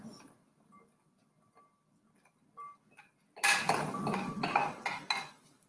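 Beans, chickpeas and other ingredients being mixed in a bowl, giving a burst of clinking, scraping clatter in the last couple of seconds after faint scattered ticks.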